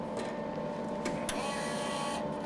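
Wire feeder spool turning inside a MIG welder, a steady mechanical whir and hum with a couple of brief clicks, close and continuous with no talking.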